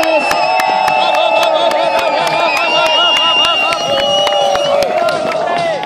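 Crowd at the finish of the Jizerský Night Light Marathon cheers and claps loudly and steadily, with sharp clapping and whistle-like tones over a dense, continuous roar.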